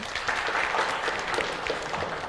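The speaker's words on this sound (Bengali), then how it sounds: "জোরে হাততালি দাও তো" Brief burst of audience applause from a quiz show, a dense patter of many hands clapping at once, moderately loud and steady.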